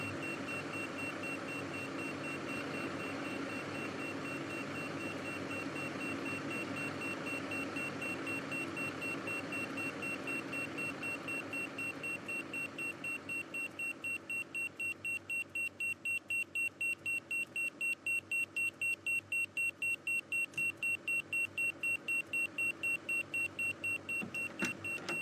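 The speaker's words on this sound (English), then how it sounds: "hear the alarm going off in the background." Steady electronic alarm tones sound in the background at a roadside emergency scene on Ballam Road, with a car or vehicle present; the beeping pulses regularly throughout, with no talk.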